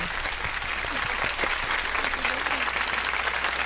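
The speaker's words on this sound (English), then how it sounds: "Let me give you a welcome round of applause." A studio audience gives a welcoming round of applause for a first-time guest, a dense, even wash of clapping that holds steady for the whole stretch, with faint voices underneath.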